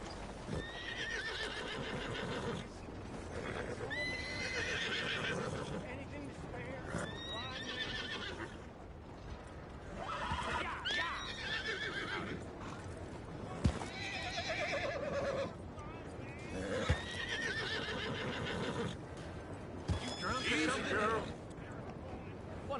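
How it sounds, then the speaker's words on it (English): A horse in Red Dead Redemption 2 whinnies repeatedly over steady clip-clopping hooves, with in-game characters talking throughout. "ought to take care of that horse there"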